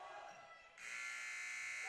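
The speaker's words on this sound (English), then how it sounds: "as Gabler hits one right at the buzzer for 3" A loud electronic buzzer sounds in a high school boys varsity basketball gym at the end of a quarter, starting suddenly and holding a steady, bright tone over faint crowd noise.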